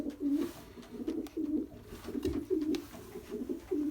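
Pigeons cooing in a loft, repeated low throaty coos in a steady rolling rhythm, close and fairly loud, with faint rustling and no speech.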